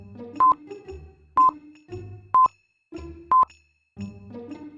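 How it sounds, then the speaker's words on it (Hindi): A telephone call is dialed to a bank, with a few bursts of touch-tone dialing beeps evenly spaced between short stretches of lower tones, each beep loud and clean. "मेहुल बैंक को फोन करके इन्फॉर्म कर देता है"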